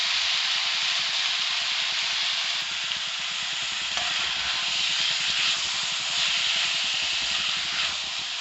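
Onion fried golden brown, then bottle gourd and sprouted moong beans in a hot pan, giving a loud, steady sizzle and hiss that carries on evenly throughout with no talk.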